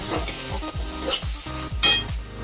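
Green peas fry in oil and are stirred in a steady rhythm, each pass bringing a scrape and a clack against the pan over a constant sizzle, close and fairly loud, without speech.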